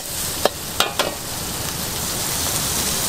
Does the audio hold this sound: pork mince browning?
yes